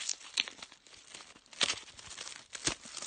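A Swizzels Drumstick chocolate bar wrapper being torn open and crinkled up close, with three louder ripping bursts separated by softer rustling.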